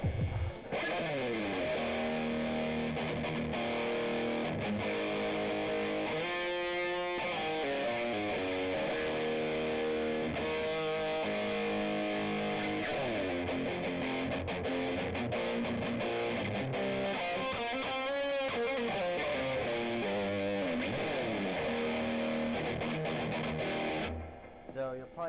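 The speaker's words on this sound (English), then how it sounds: "here's distortion, and my pedal is a Love pedal, custom effects" An electric guitar plays through a Love Pedal custom distortion pedal, straight in, giving dense, saturated chords and riffs that ring continuously for about twenty-five seconds, loud and close.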